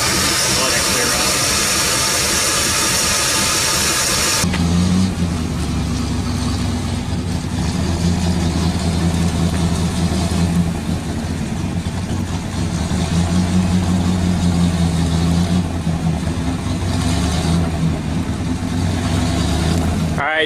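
A 1978 Dodge D100 pickup engine runs after sitting almost 20 years, a steady loud idle with a low rumble that continues throughout after a brief noisy start, with some voices in the background.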